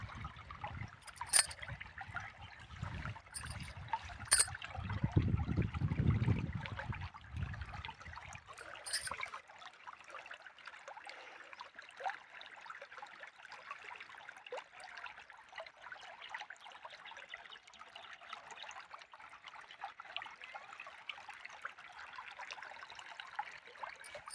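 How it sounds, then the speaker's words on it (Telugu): Irrigation water runs into the furrows of a bean field as a faint, continuous trickle heard from close by. A few low thumps and handling noises come early, and then the quiet flow carries on alone. "చూడండి, నీళ్ళు అయితే పారుతున్నాయి"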